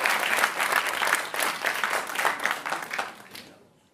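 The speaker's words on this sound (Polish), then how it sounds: "poproszę o brawa" Audience at a formal town council session in Zambrów applauds prize winners, a steady dense clapping close to the listener that carries on for several seconds before fading out.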